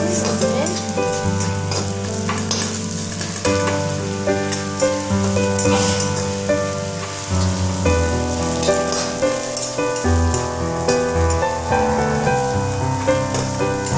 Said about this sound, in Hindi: ये देखिए मेरा प्याज ब्राउन हो गया है। अब इसे थोड़ा और भून लेती हूँ इसमें।